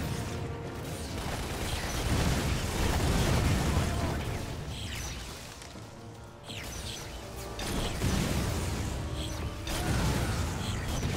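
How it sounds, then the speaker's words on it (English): Repeated explosions and crashing impacts from the Lost Planet video game, loud and continuous with mechanical creaking and rattling throughout, a few sharp bursts standing out near the middle and later. "So many explosions."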